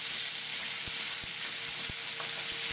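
Sweet potato hash sits undisturbed in a pan, frying with a soft, steady sizzle and a few faint pops, quiet and close.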